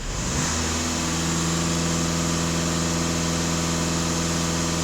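A VW or Skoda car engine idles steadily and close by during a check after its emissions system was cleaned, giving a loud, even hum with a constant low drone and no voices.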